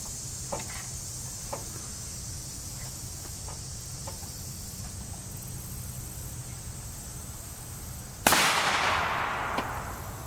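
One sharp rifle shot fires M855A1 rounds from a 22-inch rifle at an NIJ IV armor plate outdoors, a single loud crack followed by a long decaying echo over a steady insect chorus.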